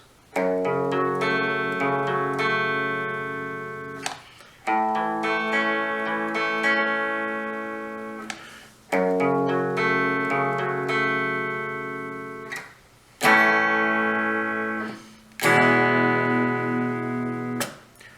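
Electric guitar plays the intro of a song in repeated strummed phrases, each chord ringing out and decaying before the next attack, close and clear with a chorus-like shimmer.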